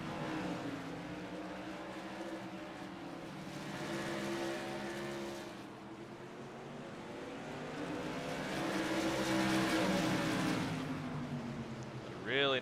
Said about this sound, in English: Really nice 4-car battle.